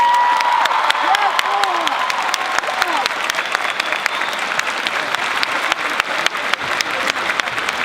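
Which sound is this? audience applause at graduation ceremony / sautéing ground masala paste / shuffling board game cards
audience applause at graduation ceremony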